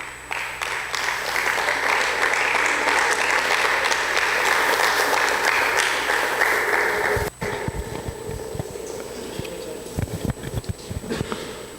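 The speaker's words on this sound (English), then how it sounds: "Let's give him a round of applause." A debate audience applauds loudly and steadily for about seven seconds. The clapping then drops away, leaving scattered claps and faint room noise.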